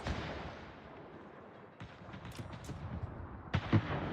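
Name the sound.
enemy ships shooting at the player, from video game World of Warships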